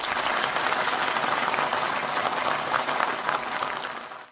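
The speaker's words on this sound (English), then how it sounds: "help me please to applause for him and his team" An audience at a corporate presentation on a crypto index launch applauds a presenting team, with steady, dense clapping from a sizable crowd that holds evenly before tapering off abruptly at the end.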